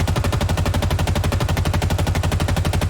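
An assault rifle in Halo Infinite fires a continuous fully automatic burst, rapid evenly spaced shots in a tight mechanical rhythm, loud and unbroken with no talk.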